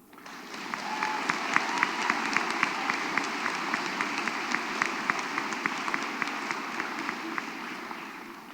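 Sustained, dense applause from a large audience at the RWU School of Law commencement ceremony, with many hands clapping steadily and evenly for the whole stretch, loud and close.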